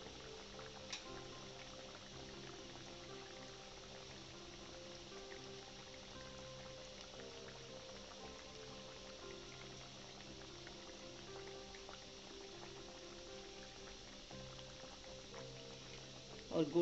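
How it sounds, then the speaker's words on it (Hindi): Mathari, a fried Indian snack made for a Karva Chauth sargi spread, sizzles softly in hot oil as a faint, steady bubbling hiss, and a voice speaks quietly over it. "और गोल्डन ब्राउन होने तक हमने इसको फ्राई करना है"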